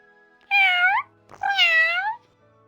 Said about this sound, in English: I couldn't imagine a nicer ending to a point-and-click adventure than to pet a cat at the very end.